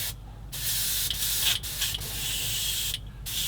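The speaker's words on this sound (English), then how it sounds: "I'm just going to give it a spray." Fine, airy spraying hiss of an airbrush spraying thinners in several short bursts separated by brief pauses, close and steady, with no voices.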